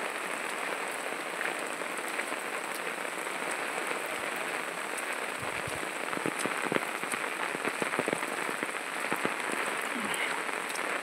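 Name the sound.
rain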